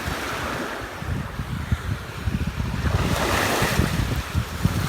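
Sea waves wash onto the shore of a warm, clean sea coast at Rasseika. The surf rumbles continuously and swells louder partway through, with gusts of wind buffeting the microphone and no voices.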